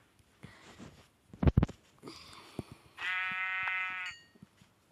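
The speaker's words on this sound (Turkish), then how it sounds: "Aha koyun. Koyun mu?" Sheep bleating in the video game Minecraft, a few short bleats and one long, steady bleat near the end, fairly close and alone without talk.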